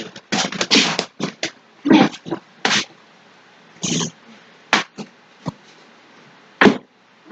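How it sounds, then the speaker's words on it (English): A puppy makes a series of short, sharp snorting and sneezing bursts up close, spaced irregularly with quiet gaps between them. "The puppy wants to come see."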